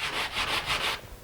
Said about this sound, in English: just very quickly with some coarse grit sanding paper